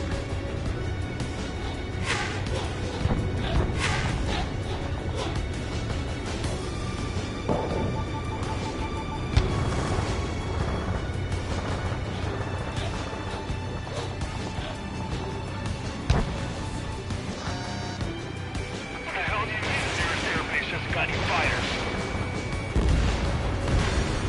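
Ace Combat 7 combat flight game action gives a steady, loud wash of jet and battle noise with scattered explosions and sharp gunfire bursts throughout, with no clear speech over it.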